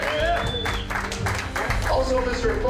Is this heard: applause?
yes